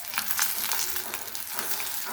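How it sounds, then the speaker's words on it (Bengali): Fish frying crisp in hot oil, a steady close-up sizzle and crackle that runs evenly throughout, with no voices. "মাছটা আমার মশমশা করে ভাজা হয়ে গিয়েছে, এখন নামিয়ে নেব।"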